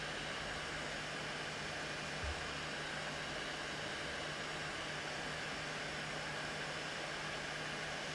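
Hot air rework station set to 420 with a thin nozzle, blowing onto a circuit board during a repair: a steady faint hiss of airflow with a low hum beneath, continuous and even, no speech.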